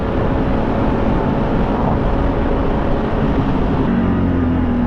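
A QJMOTOR SFA1000 motorcycle being ridden on the road, heard as a steady, loud engine drone blended with heavy wind rush throughout, with no voices.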